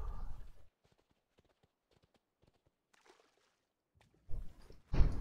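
A horse mount trots in World of Warcraft, with soft, rhythmic hoof clip-clops that are faint and intermittent between louder bursts of game sound.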